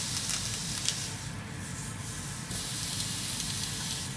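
Bacon strips frying in a pan, giving a steady, close, broadband sizzle and hiss that runs unbroken and fairly loud throughout with no talk.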